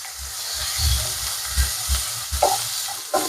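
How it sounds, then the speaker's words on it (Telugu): Chopped ripe red tomato pieces fry in the hot tempering for chicken curry, giving a soft, steady sizzle broken by a few low stirring knocks. "రెడ్గా పండిన టమాటా వేస్తున్నాను"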